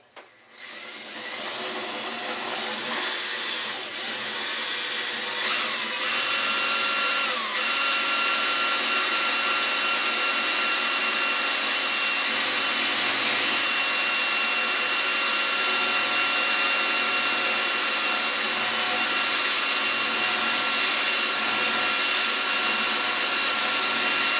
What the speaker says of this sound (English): drill into the center of the rivet